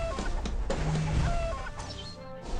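Cartoonish chicken clucks from a video game come in several short bursts over a busy background of game effects and music, at a moderate level.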